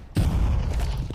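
A grenade going off in a CS:GO match on the Train map, one sudden heavy boom that hits hard and then rolls away into a low rumbling tail.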